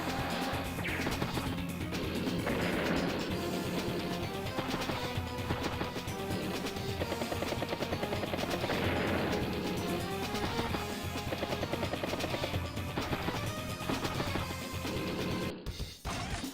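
An artillery unit strikes a command copter in Advance Wars: Days of Ruin, a crashing impact amid busy game music and effects that keep going with dense, loud layered sound throughout.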